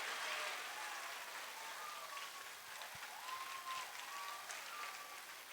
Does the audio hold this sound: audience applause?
yes